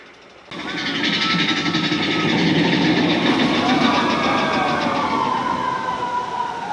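A loud, steady mechanical rumble and hiss of the Big Thunder Mountain ride train at Disneyland starts abruptly and holds, with squealing wheels and a faint whistle-like tone over it.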